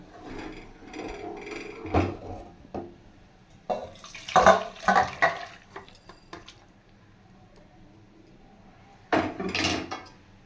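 A metal pot of katla fish curry is lifted off the stove, with scattered clanks and scrapes of cookware and utensils in a kitchen, ending in a louder rattle.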